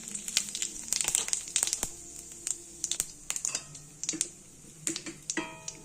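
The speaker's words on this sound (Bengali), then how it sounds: "তেল গরম হয়ে গেছে, দিয়ে দেবো শুকনো লঙ্কা, গোটা জিরে" Dried chilies and whole cumin seeds crackle and pop in hot oil, giving an irregular run of sharp ticks and snaps, close and fairly crisp, with no talking.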